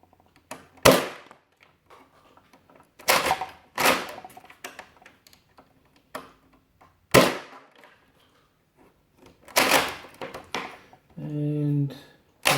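A Nerf Retaliator blaster fires foam darts: about half a dozen sharp, loud pops spaced irregularly over several seconds, with quiet gaps and faint handling between shots.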